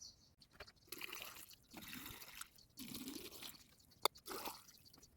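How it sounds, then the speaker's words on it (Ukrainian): Brine poured over cucumbers in a jar for cold-fermented pickles, heard as several soft bursts of liquid pouring and splashing in a quiet room, with a brief sharp clink near the end. "Заливаємо розсіл."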